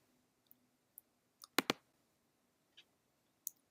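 A computer mouse clicks while form fields are filled in, sounding as a handful of sharp, isolated clicks spaced irregularly across quiet room tone, including a close pair of louder clicks, with no talking.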